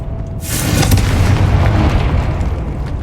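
A Confringo blasting spell in Hogwarts Legacy goes off as a single loud booming explosion that bursts suddenly and then rumbles and decays over a couple of seconds.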